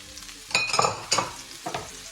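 Ginger, garlic, chillies and spring onions hit a hot pot as a beef ramen broth begins, with sharp sizzling bursts and a few stirring scrapes over a low background hiss.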